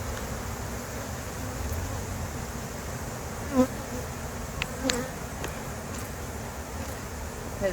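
Honey bees at an open hive make a continuous near buzzing drone, with a few louder individual bees passing close to the listener.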